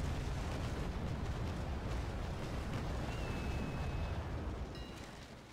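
Ship cannon fire from a naval battle in Naval Action, aimed at an enemy Constitution frigate, a continuous heavy rumbling roar of broadside blasts, loud and dense, fading slightly at the end.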